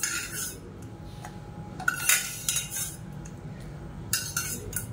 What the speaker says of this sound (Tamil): இந்த தக்காளி, முருங்கைக்காய், இந்த புளி எல்லாத்தையும் மிக்சி ஜாரில் சேர்த்துக்கலாம்.